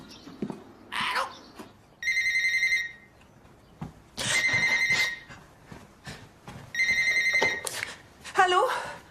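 Old-fashioned telephone bell ringing for a scheduled weekly call, three loud ringing bursts spaced a couple of seconds apart, with voices and a dog barking in between.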